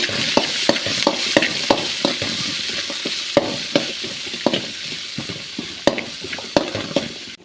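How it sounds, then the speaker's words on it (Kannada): Chopped onions and curry leaves fry in a pan under a close, hissing sizzle. Quick taps and clinks from a stirring utensil punctuate it throughout, with no voices present. "ಒಂದೆರಡು ಈರುಳ್ಳಿನ ಕಟ್ ಮಾಡಿ ಹಾಕಿ ಫ್ರೈ ಮಾಡ್ಕೊಳ್ಳಿ"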